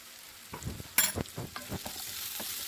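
Turmeric being stirred into lemon rice seasoning in a hot pan: a steady sizzle and frying hiss with several scraping, clattering stir strokes, close and fairly quiet, no talking.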